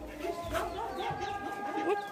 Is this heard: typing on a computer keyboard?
no